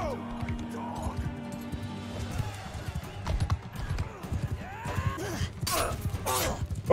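Horse hooves clip-clop and thud at a gallop through a medieval tournament in Mount & Blade 2: Bannerlord, with a steady rhythm under game noise and speech, then sharp crashing impacts near the end.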